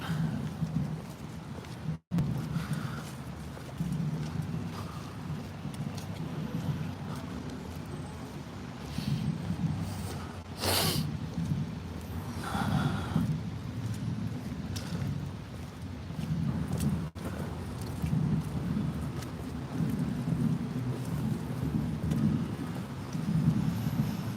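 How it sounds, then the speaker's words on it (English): Steady rain falls throughout an outdoor march for children in London, a continuous broadband hiss with low rumble beneath, briefly swelling near the middle, with no clear talking. "Looks like the raining's slowing down a little bit."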